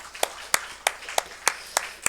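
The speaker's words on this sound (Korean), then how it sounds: "우리 살아계신 하나님께 영광의 박수 올려드립시다" A church congregation claps together during a Sunday morning service, seven sharp, evenly spaced claps roughly every third of a second, loud and close, with no talk over them.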